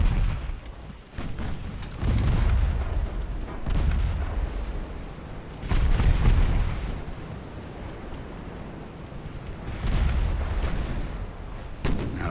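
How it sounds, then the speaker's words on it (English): Heavy battleship gunfire in the naval game Ultimate Admiral: Dreadnaughts, set in 1890: repeated deep, booming salvos at irregular intervals, loud and rumbling, with a sustained low roar between shots and no talking. "Battleships are starting to fire at us."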